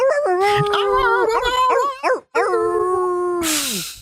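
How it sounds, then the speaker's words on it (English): Dogs bark, yip and howl in long sliding, wavering cries, loud and close, with a short break before another drawn-out howl that fades into a burst of noise at the end. "the dog's extra rowdy"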